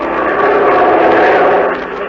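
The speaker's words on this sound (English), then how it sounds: "we were flying our plane over the world's toughest transport route" Airplane engine drone on a 1945 radio show flying over the Hump route, a loud, steady roar that holds for two seconds and eases slightly at the end.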